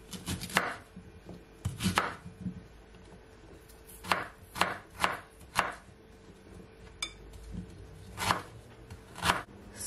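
A kitchen knife chops cucumber and ginger on a cutting board in quick uneven bursts of crisp taps, close and clear, with no voices.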